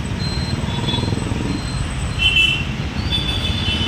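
A train rumbles steadily close by at Chhatrapati Shahu Maharaj Terminus in Kolhapur, with faint high metallic squeals and tones drifting over the continuous low drone.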